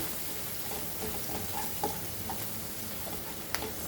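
A mutton brain fry mixture is stirred in a hot pan, making a soft continuous sizzle with a few light taps and scrapes of the spoon against the pan, close and low in level.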